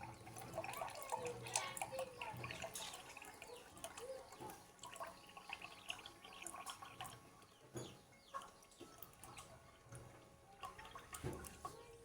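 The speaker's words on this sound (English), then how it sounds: "The water start dropping on it." Water dripping from a dispenser into a cup, with faint irregular drips and trickling over a soft, noisy background.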